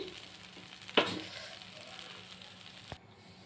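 Idli pieces frying and sizzling in a pan, a steady crackling hiss with a sharp scrape or clatter near the start and a brief knock near the end, no voices.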